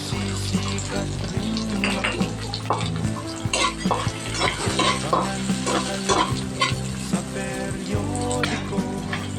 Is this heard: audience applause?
no